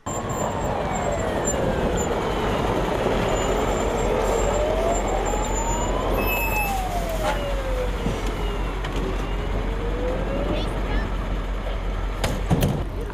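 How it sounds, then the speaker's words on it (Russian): A fire engine siren wails steadily, rising and falling in long sweeps over loud engine and traffic rumble as the vehicle draws near. "Через 5 минут после сигнала к фонду социального страхования приехала пожарная машина."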